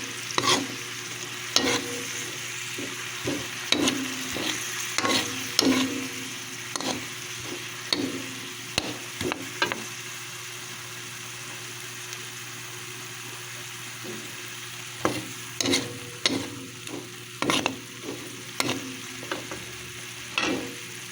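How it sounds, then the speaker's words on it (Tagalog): Pork and broccoli fry in a pan with soy sauce while a utensil stirs, giving a steady sizzle broken by repeated scraping clatters in bursts, close and moderately loud, with no talking. "Lagay na po natin ngayon ang toyo at patuloy lamang nating haluin."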